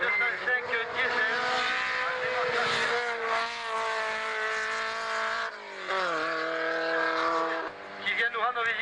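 A Peugeot 205 diesel rally car's engine holds a loud, steady drone at a rally event, dipping in pitch twice as the revs drop and recover.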